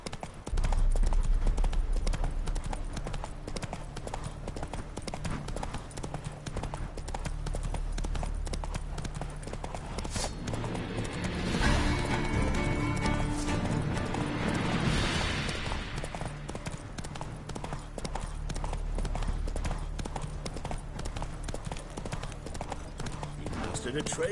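Roach the horse galloping in The Witcher 3, a rapid, continuous clip-clop of hooves running throughout, with a swell of rushing noise midway and voices speaking over it.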